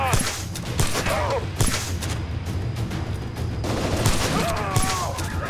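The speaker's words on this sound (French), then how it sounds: "Mais il lance des grenades" Grenades and gunfire burst repeatedly in the video game Shadow Warrior, with sharp shots and booms scattered through a busy, noisy battle while someone talks over the action.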